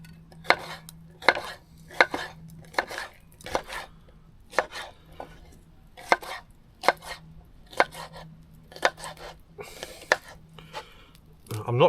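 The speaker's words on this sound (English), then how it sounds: "I'm not chopping the pepper as finely as I have with the other ingredients" A knife chops a green pepper on a board in a steady series of sharp, close taps, with brief pauses between runs of cuts.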